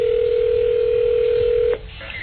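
Telephone dial tone: a steady, loud hum holding for almost two seconds, then cutting off into a faint, quiet line with a soft beep as dialing begins.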